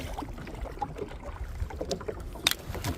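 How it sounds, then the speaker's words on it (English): Kayak paddling out on the water while fishing off Crib Point, with soft irregular splashes and strokes over wind and water noise, one brighter splash near the end. "Just paddle against the current, with the current I should say."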